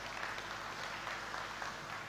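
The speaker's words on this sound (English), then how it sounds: "Give a clap to those who are still standing" Brief, fairly faint applause from a convention audience, an even patter of many hands clapping throughout, with no voices over it.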